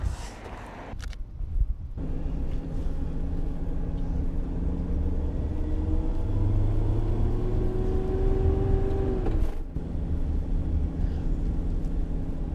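A car passing on a mountain road through a volcanic landscape, its steady engine rumble and tyre roar swelling and holding close by for several seconds before cutting away, with no talking.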